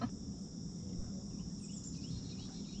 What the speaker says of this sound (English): He's barking at a grasshopper.